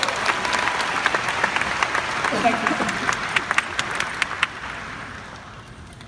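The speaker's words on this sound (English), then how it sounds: "Let's clap it up for each other." Crowd at a keynote in Atlanta claps and cheers loudly, a dense wash of applause with a few sharp individual claps standing out, slowly tapering off, while a voice briefly speaks over it.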